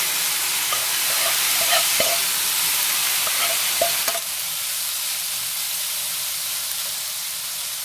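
Salted namul vegetables stir-fry in cooking oil in a frying pan, giving a steady, close sizzle punctuated by a few sharp utensil taps and scrapes against the pan.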